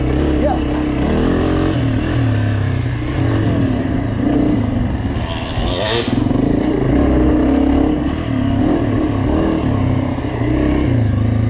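A dirt bike on a forest trail, its engine revving loudly and unevenly as the rider searches for the right gear, with clattering and wind throughout and a brief rider's voice.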